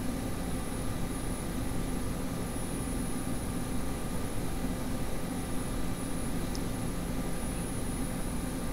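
Steady helicopter rotor and engine drone from a military chopper in the video game ARMA 2, a continuous loud broadband rumble holding level throughout with no speech over it.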